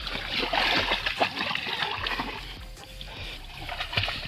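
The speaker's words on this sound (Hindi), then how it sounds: "देखिए स्वीटी को पानी में जाके खेल रही है" A dog splashes and plays in water near a turtle release, making busy close splashes and sloshing, loudest at the start and quieter later, with no talk.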